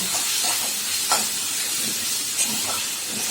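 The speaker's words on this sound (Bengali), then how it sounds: "ততক্ষণ আমি তেলের মধ্যে পেঁয়াজটা ফ্রাই করে নেব" Onions fry in hot oil for a Bengali chicken curry, giving a steady, close sizzling hiss with a few faint soft ticks and pops throughout, no voices.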